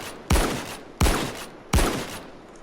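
A Kel Tec KSG (Raven) pump shotgun firing in Payday 2, with three loud, booming blasts at a slow, steady pace, each followed by a short decaying tail.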